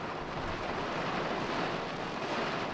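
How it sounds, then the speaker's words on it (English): Heavy rain in a gale makes a dense, steady broadband wash, blowing hard and unbroken throughout, with no voices. "pouring rain."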